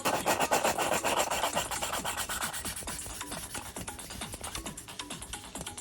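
Exhaust valves from a Ford Sierra Cosworth engine are lapped by hand, giving a close, steady gritty rubbing with a fast back-and-forth rhythm of rasping strokes that continues alone throughout.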